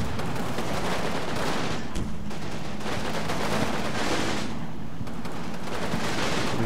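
Dense gunfire from a World War II Normandy battle in Combat Mission: Battle for Normandy, a continuous rolling crackle of rifle and machine-gun bursts with heavier thuds mixed in, steady and loud throughout with no talk.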